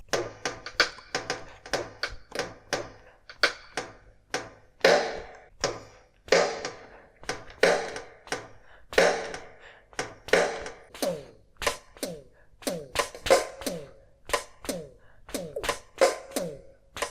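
A stream of percussive taps and hits in an uneven drum-like rhythm, some thumping and some clicky, close and fairly loud, from the drum setting of a Greaten Music AP300 electronic wind instrument.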